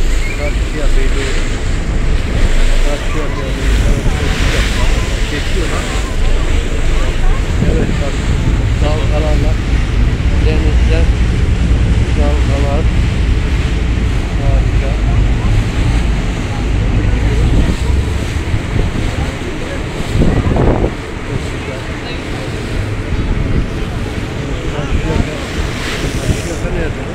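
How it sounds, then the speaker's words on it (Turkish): A passenger ferry crossing İzmir Bay from Konak to Karşıyaka, with heavy wind buffeting the microphone over the roar of waves and engine. It is loud and continuous throughout, and people talk faintly beneath it. "Vapur hareket ediyor."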